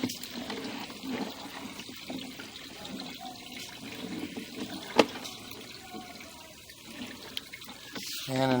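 Water runs and splashes inside a sewer line during a camera inspection, a continuous faint trickling wash with a few sharp knocks and clatters, while a voice speaks faintly at times.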